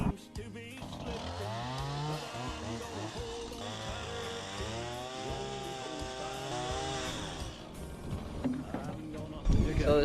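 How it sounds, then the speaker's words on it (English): A chainsaw cuts through barn lumber beams, its engine revving up and down in long rising and falling sweeps, fairly close and continuous before trailing off. "So this is our other cut from the chainsaw."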